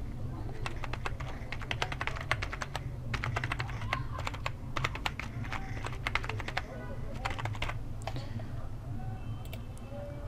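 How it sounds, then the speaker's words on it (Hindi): An email address is typed on a computer keyboard in rapid, uneven runs of close clicks with brief pauses, over a constant low hum, while a voice talks alongside. "इससे नीचे यहाँ पे आपने अपनी ईमेल टाइप करनी है।"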